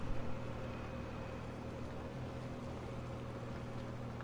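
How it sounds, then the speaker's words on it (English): A go-kart in Fortnite driving around, its engine a steady droning hum with a constant low buzz that holds at an even level throughout, with no talk. "We're getting in our go-kart and we're just driving around."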